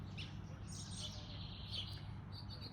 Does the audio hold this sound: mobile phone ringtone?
no